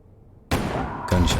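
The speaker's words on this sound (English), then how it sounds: "Gunshots. Oop, not good." Gunfire erupts abruptly in a story-driven video game set in Frisco at nightfall, a loud burst of shots cutting in from near-silence, followed by a second sharp volley moments later.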